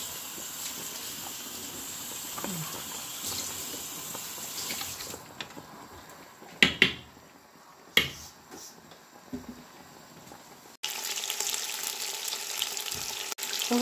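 Meat sizzling in a pot for a tajine with prunes, almonds and quinces, a steady close frying hiss with a few sharp knocks as the meat is turned, the sizzle swelling louder near the end.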